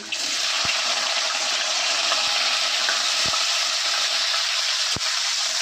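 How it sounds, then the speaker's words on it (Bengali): Chopped green beans frying in a pan with cumin and chilli for masala Maggi, a constant bright sizzle with a few sharp knocks of a spatula against the pan. "বিনসটা একটু ভাজতে থাকবে যাতে কাঁচা গন্ধ না পড়ে"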